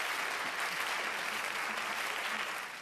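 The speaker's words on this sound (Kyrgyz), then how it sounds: "азаматсыз кол чабуулар сизге." An audience at a live singing contest applauds steadily, a dense wash of clapping that holds for nearly three seconds before starting to fade.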